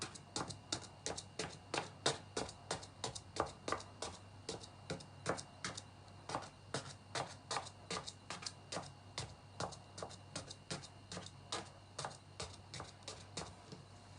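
Stick poking holes in a freshly baked orange cake, giving a steady run of small, evenly spaced taps and clicks, close and fairly quiet, with no talking.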